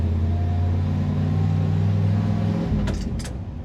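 A 1977 Ford F-150 Ranger XLT 4x4 pickup with a four-speed moves off in its low first gear, the engine giving a close, steady low rumble that eases and drops away near the end, followed by a couple of faint clicks.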